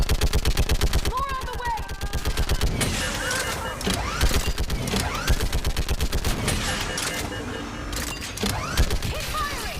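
Automatic gunfire rattles nonstop in a Mass Effect Legendary Edition battle, loud, rapid bursts of shots with heavy impacts, while a voice shouts over the shooting.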